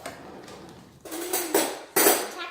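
Pancake batter with egg and coconut stirred in a bowl, quiet at first, then loud bursts of utensil scraping and clinking against the bowl, close, with no talking.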